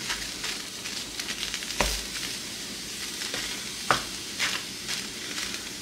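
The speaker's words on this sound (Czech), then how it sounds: "Přidáme sůl, pepř a papriku. A hezky porestujeme." Minced beef with salt, pepper and paprika sautés in a pan with a little oil for baked potatoes, a soft steady sizzle with occasional scraping stirs, fairly quiet and without talking.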